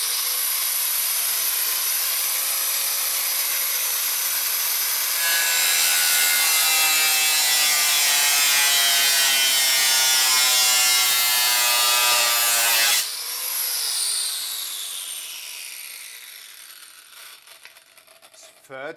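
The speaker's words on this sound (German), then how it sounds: "Jetzt werde ich es mit der Flex aufschneiden" An angle grinder cuts loudly and steadily through plastic close by, its pitch shifting partway, then it winds down to quieter scraping.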